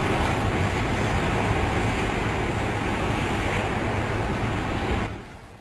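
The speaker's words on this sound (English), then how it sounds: "Just look at the power of that surf, the waves just going almost as high as the rooftops there." Heavy storm surf crashes against a shore, a loud and continuous roar of waves mixed with buffeting wind that fades slightly at the very end.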